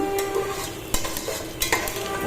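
Rice being stirred in a pot while cooking pulao for chicken biryani, a steady close scraping and sizzling texture with a few sharper clinks of the spoon against the pot.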